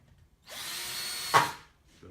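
A power drill bores a hole in wood during a build, one steady whirring burst of about a second with a sharp rise in pitch and force near its end before stopping.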